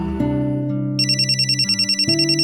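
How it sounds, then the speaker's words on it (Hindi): A household phone ringtone in a family home: a sustained electronic melody with bright repeating chimes, loud and close, playing alone without voices. "तुम्हारा फोन बज रहा है"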